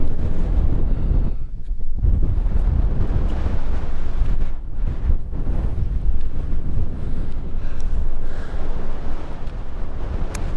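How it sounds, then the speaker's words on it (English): Harsh southeasterly wind sweeps across the Lake District's Eastern Fells, a loud, steady roar buffeting the microphone with brief lulls and no voices. "There's quite a harsh southeasterly wind"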